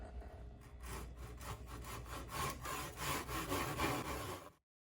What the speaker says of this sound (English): I'll be using a Japanese pull saw to clean this up